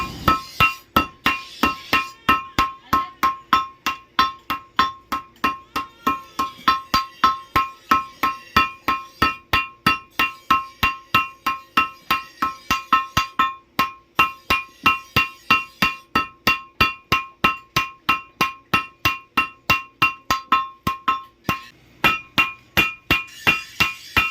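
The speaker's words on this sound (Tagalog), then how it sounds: "babagayin po nila yung uh, bakal uh, para po lumambot saka po nila pupukpukin" A blacksmith in a bolo knife workshop in Tabaco City hammers softened steel, with dozens of sharp ringing metallic strikes in a steady, fast rhythm and brief pauses, close and loud.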